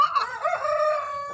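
A rooster crows once, close and clear, a single drawn-out cock-a-doodle-doo lasting just over a second with no talk over it.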